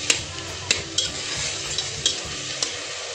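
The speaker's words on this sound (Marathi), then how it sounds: "आणि छानपैकी परतून घेते।" Onion sautéing with a pinch of salt in a pressure cooker pan, a continuous close sizzle punctuated by regular spatula scrapes and taps against the metal.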